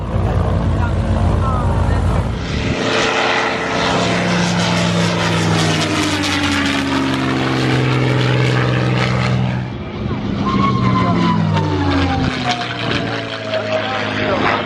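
An aerobatic Beechcraft Bonanza takes off at an airshow, its propeller engine roaring loud and close with rising and falling pitch as it climbs and passes, while people talk and react over it.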